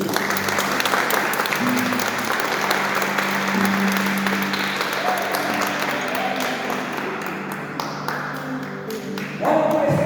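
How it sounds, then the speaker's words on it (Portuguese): A church congregation applauds during a worship service, sustained dense clapping filling the room, with voices and a held musical tone underneath, swelling slightly again at the end. "Então pode aplaudir o Senhor."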